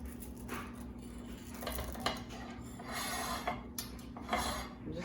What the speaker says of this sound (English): I believe it's cold enough I can cut it now.